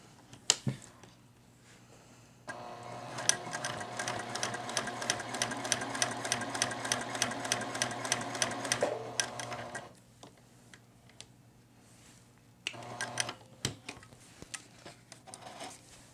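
A Juki TL-2010Q semi-industrial sewing machine runs in a steady rapid stitching burst of several seconds, stops, then starts again in a shorter run, with faint clicks between and no talking.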